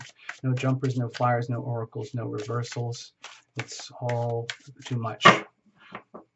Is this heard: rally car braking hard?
no